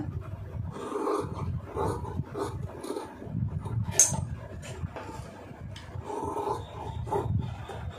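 Scissors snip through blouse lining fabric in a steady run of close, soft, rasping cuts with a rustle of cloth between strokes.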